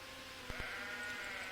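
Sheep bleat softly in a video game, a faint wavering tone under a steady background, with two brief clicks partway through.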